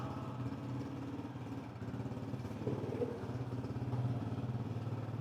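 A 2013 Honda 125 motorcycle idles nearby with a steady, mid-pitched engine chug that stays fairly even throughout.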